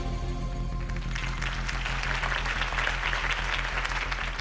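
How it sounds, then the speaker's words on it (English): Steady applause from a large crowd in the video game Batman: The Telltale Series, many hands clapping continuously at an even level, with no voices standing out. "could have heard that applause"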